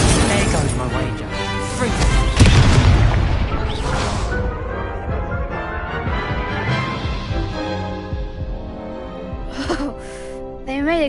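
An Incendio fire spell erupts in the Hogwarts Legacy video game, a loud booming crash with bursts of impact over game music, and a voice speaks through part of it.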